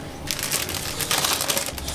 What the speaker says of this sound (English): So just going to cut this and empty it into the bowl.